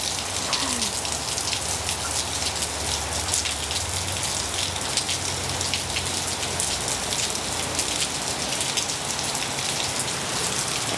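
Heavy rain pours down steadily, a dense, loud hiss of drops hitting surfaces with no letup.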